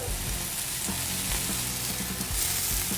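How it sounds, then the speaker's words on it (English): Burger buns toast on a hot grill griddle beside burgers, giving a dense, continuous sizzle and crackle with low thumps underneath, close and steady, with no talk. "We're just going to move them a little bit to the side so we can fit our burger buns on the grill griddle as well. Just get a quick toast on them."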